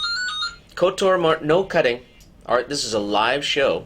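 A phone ringing during a live morning show broadcast, a short electronic ringtone heard at the start before people talk over the rest.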